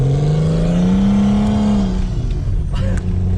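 A car engine revs loudly and steadily up in pitch, then eases off, close by with a rough mechanical drone.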